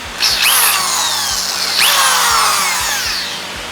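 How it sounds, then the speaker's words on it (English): A tapered drill bit reams out a hole to start a thread tap on a conventional motorcycle fork being shortened for a bobber build, giving two close, loud whining power-tool bursts with a steady low motor hum beneath. "this right here is a tapered bit just to help the tap get started in the hole"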